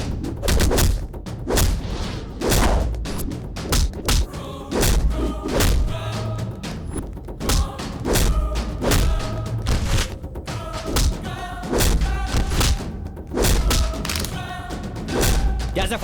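A Hindi-dubbed action movie fight, with repeated heavy thuds and impact hits over loud, dense soundtrack music and sound effects.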